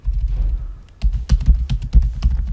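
Computer keyboard keys clatter in quick irregular bursts during Python coding, with a short pause before a steadier run of close, crisp keystrokes.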